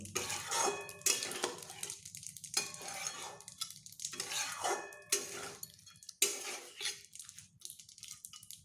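Ridge gourd and dal stirred in a pan, a spoon scraping and clattering in repeated bursts of several strokes with pauses between, over a faint sizzle, close and moderately loud.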